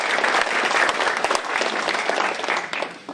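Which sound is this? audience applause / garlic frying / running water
audience applause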